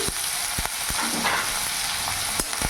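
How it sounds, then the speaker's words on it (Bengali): Two large onions, finely chopped, sizzle in hot oil as they fry, a steady close hiss broken by several sharp scrapes and taps of stirring. "এবার পেঁয়াজটা কিছুক্ষণ ভাজা ভাজা করে নেবো, যাতে পেঁয়াজের কাঁচা ভাবটা চলে যায়।"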